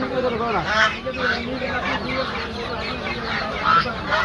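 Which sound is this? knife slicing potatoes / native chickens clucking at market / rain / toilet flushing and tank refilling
native chickens clucking at market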